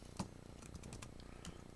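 Fingers type on a computer keyboard into a web browser, a short, faint run of light key taps close by.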